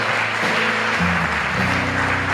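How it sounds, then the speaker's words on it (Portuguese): A church congregation applauds together in a steady, dense wash of clapping that fills the room, with a sustained musical tone holding underneath throughout. "Você pode aplaudir o Senhor."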